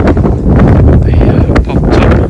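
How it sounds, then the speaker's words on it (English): Loud wind buffets the microphone in heavy, roaring gusts for a couple of seconds, in winter at Weymouth beside a VW California camper van. "it's windy, but it's not raining"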